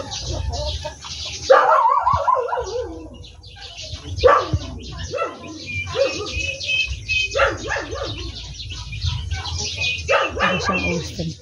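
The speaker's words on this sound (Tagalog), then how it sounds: "Ang ingay ni Doggy." A dog yaps and barks in short irregular bursts over steady background noise, with some whimpering and a bird chirping faintly nearby.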